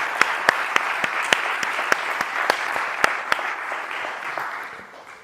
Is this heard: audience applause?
yes